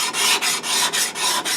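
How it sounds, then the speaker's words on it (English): Sandpaper rubs by hand along the bevel of a Damascus steel cleaver in close, loud, rhythmic rasping strokes, about six strokes in quick succession with short breaks between them. "I'm still going back to the sandpaper and getting it all blended even."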